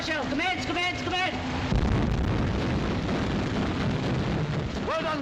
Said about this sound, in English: Open fire. Open shutters. Star shell commence.